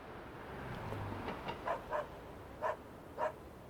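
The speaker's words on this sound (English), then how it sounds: "I hear a dog barking." A distant dog barks four short, faint times in an even rhythm over steady low background hiss.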